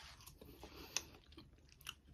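Someone chews the crunchy baked top of a casserole, with soft close-up crunches and bites coming irregularly at a faint level, with no talking.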